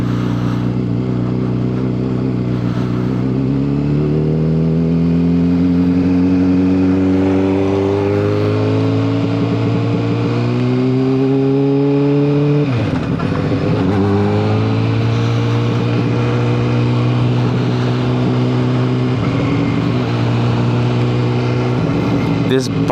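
A cold Honda CBR600RR motorcycle engine revving after a cold start, loud and close, with the pitch rising and falling through several long throttle sweeps and a sharp dip partway through.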